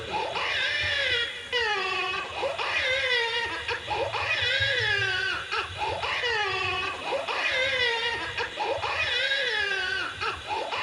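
A voice imitates a baby girl crying during a Bhagavat Katha religious discourse: repeated rising, wailing cries in steady bursts, loud and close, continuing throughout with little pause.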